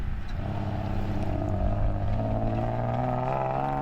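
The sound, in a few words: Toyota bakkie engine in off-road race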